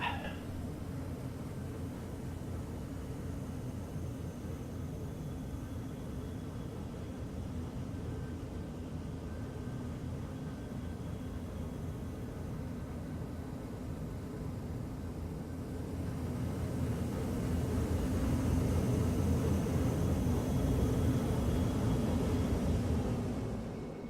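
A spaceship in Star Citizen cruises with a steady low engine drone, which swells noticeably louder and rougher partway through as the afterburner engages, then eases slightly at the end.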